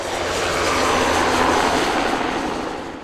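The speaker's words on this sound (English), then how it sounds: "Dust rises as a helicopter drives the horses from above" A helicopter roars overhead with steady rotor-like rumble, swelling and fading as it passes while driving wild horses on Idaho rangeland, with no voices.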